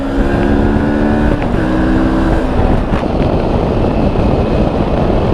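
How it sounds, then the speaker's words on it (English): A Moto Morini X-cape 650 motorcycle with an ER6-based engine roars under acceleration, the loud, close engine note climbing with a brief shift partway through against strong wind rush. "Got a lovely roar to the engine once you open it up."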